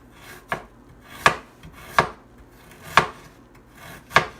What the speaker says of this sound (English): we're gonna slice it very thinly